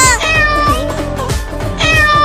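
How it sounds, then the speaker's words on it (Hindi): Several cats meowing and yowling, loud and close, with long wavering cries that overlap and rise again at the end. "ये तीनों बिल्लियाँ मुझे काटने के लिए दौड़ा रही हैं"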